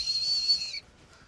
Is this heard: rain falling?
no